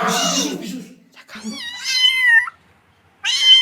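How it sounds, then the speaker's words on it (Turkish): Several loud, close meows from kittens in a garden, drawn-out and wailing, coming in separate bursts with short pauses between them, sounding like more than one cat. "bu bir tane kedinin sesi değil"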